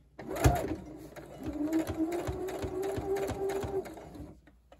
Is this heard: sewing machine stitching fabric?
yes